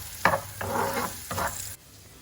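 Onions with green chili frying in a pan, a crackling sizzle broken by two or three stirring strokes, close and moderately loud, ending abruptly.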